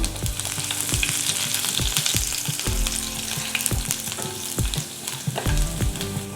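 Cumin, dried chillies and finely chopped garlic frying in hot oil for drumstick chutney, giving a loud, continuous crackling sizzle with frequent stirring scrapes close by and no voices.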